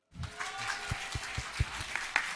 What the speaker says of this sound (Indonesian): tepuk tangan dulu buat adik yang sudah bermain musik dengan baik